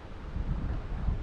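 Light wind buffets the microphone outdoors in a valley at a long-range rifle shooting spot, a low rumbling whoosh with soft gusty swells and no talking.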